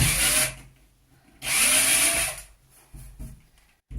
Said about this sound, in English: I just take the drill at an angle and I kind of drill up then so that the 3 little holes become one long hole